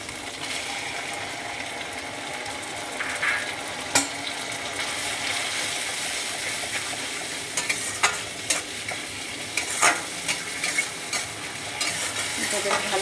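Onion paste fries in hot oil for Bengali-style katla fish kalia, giving a steady close sizzle broken by sharp clinks and scrapes of a spatula stirring against the pan.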